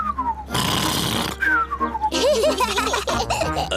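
Cartoon character Daddy Pig voices an exaggerated imitation of Uncle Pig's loud snoring: whistling, sliding tones alternate with rough, snorting inhales, loud and close over music and effects.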